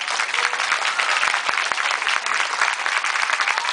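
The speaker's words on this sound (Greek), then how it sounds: "Να τους δώσουμε ένα θερμό χειροκρότημα" Audience applause at a dolphin show, a dense, steady patter of many hands clapping for the whole stretch, fairly loud with no voices over it.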